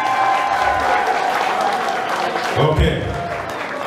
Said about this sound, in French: applaudissez pour elle, s'il vous plaît.